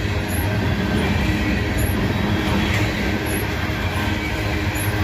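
CSX diesel locomotives haul a train along Norfolk Southern track in West Virginia, a steady close rumble of engines and rolling cars with faint clickety-clack continuing without a break.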